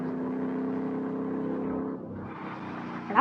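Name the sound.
BMW car drifting and revving in Car Parking Multiplayer video game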